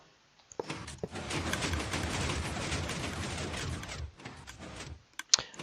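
TNT explodes in Minecraft, a dense crackling burst of blasts lasting a few seconds, followed by a few sharp clicks and thuds from the game's mechanisms.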